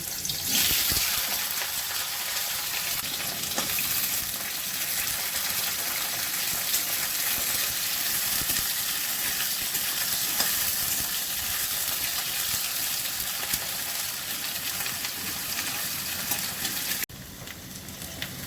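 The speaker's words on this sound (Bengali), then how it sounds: "এবার উচ্ছেগুলো ভাজছি" Bitter gourds frying in mustard oil, a dense, even sizzling hiss that runs continuously at close range and drops slightly at the very end.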